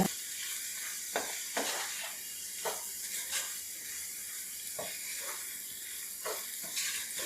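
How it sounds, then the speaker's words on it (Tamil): Mushrooms sauté in oil for a mushroom chukka, with a steady hiss and sizzle broken by occasional clicks and scrapes of a spatula, close and fairly quiet. "சேர்த்துட்டு அந்த எண்ணெயிலேயே மஷ்ரூம் நல்லா வதக்கிடுங்க"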